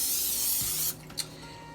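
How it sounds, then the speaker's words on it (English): Cooking spray hisses from an aerosol can onto a baking dish for a ravioli casserole: one steady, close spray burst of about a second that cuts off sharply, followed by a faint click. "we need to get some cooking spray. And just kind of spray that on there."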